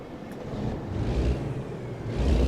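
An upgraded Cummins truck engine in American Truck Simulator hauling a 116,000 lb lift truck, a low, steady droning rumble that swells slightly, heard alone without talk.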